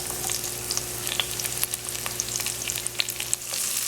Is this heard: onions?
yes